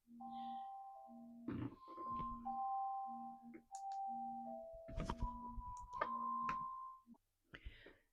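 A bright two-tone chime repeats several times over a steady tonal backdrop, ringing clearly and fairly close, with a brief knock near the end.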